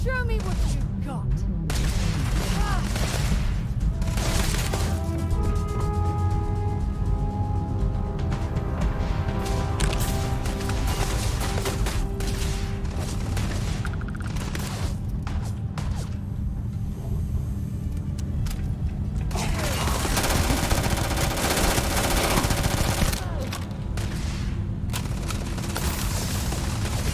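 Sustained gunfire in the Starfield game: a dense, continuous barrage of rapid shots mixed with heavy rumbling action noise for the whole stretch, loud throughout, with some voices in between.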